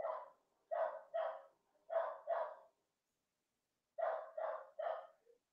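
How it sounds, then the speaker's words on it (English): A dog barks in quick pairs and triplets, about eight sharp barks in all, with a short pause before the final burst; fairly close and clear. "Y'all hear a dog barking?"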